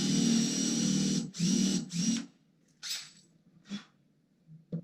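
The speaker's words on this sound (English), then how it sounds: "we're going to start drilling through this hole, reverse again, all the way through the gel coat" Cordless drill boring slowly through boat gel coat into fiberglass on a 2006 Mastercraft X2, three close whirring bursts of about a second each, followed by a few shorter faint spurts.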